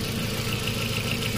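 A 2005 Audi A4 1.8T with a misfire idles roughly during a cylinder drop test, a steady close engine drone with faint uneven knocking running throughout, no voices.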